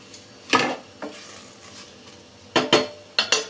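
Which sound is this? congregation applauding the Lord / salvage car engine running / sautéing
sautéing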